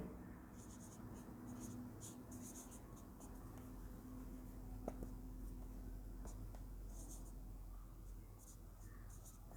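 Pen writing out given values by hand for a cylinder surface-area maths problem, a faint scratching that runs steadily under a low background hum, with a few soft taps.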